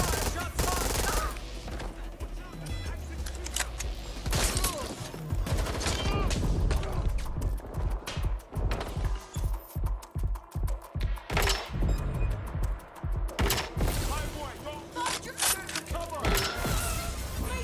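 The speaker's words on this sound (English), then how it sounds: "Shots fired. Shots fired." Gunfire rattles through a shootout in the video game Watch Dogs: Legion, loud rapid bursts and single shots crackling close, with brief thumps and shattering among them.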